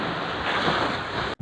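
Sea waves at a beach resort in Pantukan, a loud, continuous broadband rush mixed with wind buffeting the microphone, cutting out briefly near the end.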